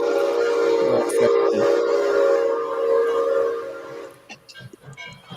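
A steam locomotive whistle sounds one long, steady, loud blast that holds for about four seconds before cutting off, leaving rumbling and clattering noise behind.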